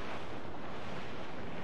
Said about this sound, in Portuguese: Ó o vento, ó o vento.